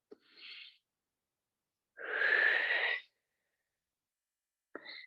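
Slow, deep breaths during a Pilates core exercise, three separate airy breaths with silence between them, close and soft, the middle one longest.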